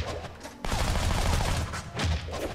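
An Uzi fires a dense, continuous automatic burst in the video game Shank, loud and close, with one brief break before the rattle resumes.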